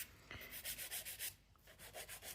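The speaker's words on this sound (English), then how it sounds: "So we're just filing them into shape a little bit." Rhythmic back-and-forth strokes of a 180 grit file shaping fingernails, close and quiet with a steady scratchy rasp at an even pace, no talking.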